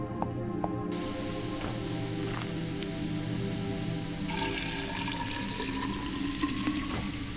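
A steady stream of water pouring and hissing onto a plant in the point-and-click game Fran Bow. It runs continuously and grows brighter and louder partway through.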